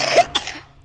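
Two short, close coughs from a child in quick succession, the second sharper, then quiet with a faint low hum underneath.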